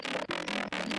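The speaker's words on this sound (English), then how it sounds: "I also added a fart noise." Buzzy, distorted fart sound effect in a heavy dubstep track, repeating in three thick sustained bursts with short gaps, loud and up front with no talking.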